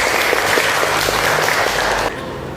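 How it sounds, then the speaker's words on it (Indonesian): A classroom of students claps together, loud dense applause that stops abruptly near the end, leaving quieter room noise. "tepuk tangan untuk kita semua"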